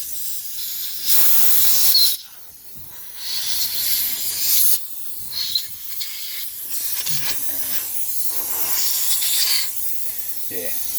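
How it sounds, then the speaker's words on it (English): Air blower blowing out parts from a 1993 Ford XG van engine, loud hissing bursts of compressed air in several separate blasts with brief pauses between them. "got the air blower and I'm going to blow these out."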